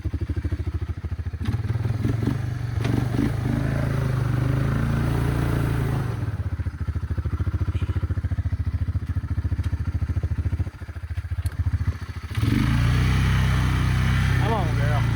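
A Honda Fourtrax 300 ATV engine runs steadily at close range as it is ridden through difficult ground, with a low, throbbing drone and occasional clatter. The engine briefly eases off around the middle before coming back up loud.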